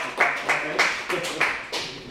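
A small comedy-club audience claps in a few sparse, evenly spaced bursts, near and moderately loud, each fading quickly.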